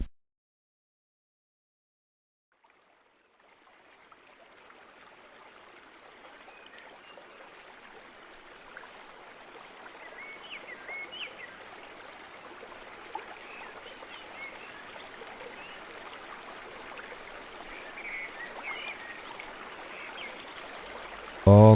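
A river stream flows steadily, fading in from silence and building to a continuous close rushing and trickling wash that stays even to the end.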